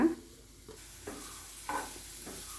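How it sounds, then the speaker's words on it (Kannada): Chopped onion fries in hot oil in a pan for a veg roll, with a steady close sizzle and a few stirring scrapes. "ಈರುಳ್ಳಿನ ಏನು ಕಟ್ ಮಾಡ್ಕೊಂಡು ಅದು ಕೂಡ ನಾವು ಹಾಕ್ಕೊಂಡು ಫ್ರೈ ಮಾಡ್ಕೊಳ್ಳೋಣ"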